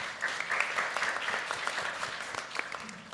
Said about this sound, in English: So a very big round of applause to you